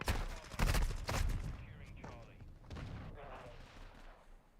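Light machine gun firing incendiary rounds in Modern Warfare 2, with sharp bursts of rapid shots over the first second and a half, then thinner, quieter firing and game noise trailing off.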